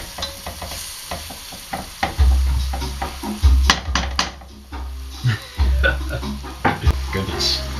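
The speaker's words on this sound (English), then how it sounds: "I'm going to stir for a little minute here" Utensil stirring BBQ duck udon soup in a pot on the heat, with repeated scraping and clinking strokes over a steady sizzle, close and fairly loud, no talking.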